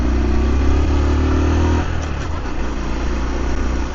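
A small Honda Dax motorcycle engine accelerates in second gear, loud and steady near the recording point, its buzzing tone dropping partway through as the revs change, with no speech over it.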